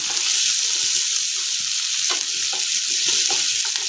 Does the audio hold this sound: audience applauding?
no